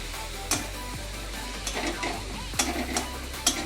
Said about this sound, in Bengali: দিয়ে ভালো করে নেড়ে ছেড়ে নেব।